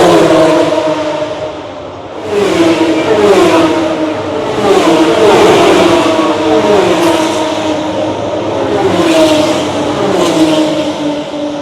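Supercars race cars at the Australian Grand Prix, loud engines revving and passing in repeated waves of rising and falling pitch, heard from near the track.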